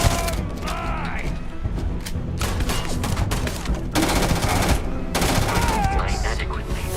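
Gunfire in the video game Starfield, rapid bursts and repeated shots crackling in clusters over several seconds, loud and close, with mechanical clanks and a voice speaking in between.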